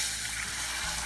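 Diluted tamarind extract, thinned with water, pours steadily into a cooking pan for a papad tamarind curry, a soft continuous watery rush with no talking.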